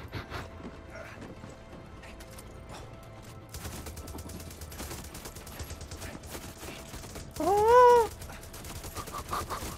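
A big cat attacks in the video game Far Cry 6 amid a busy, clattering battle mix, with one loud snarling roar rising clearly above the noise near the end.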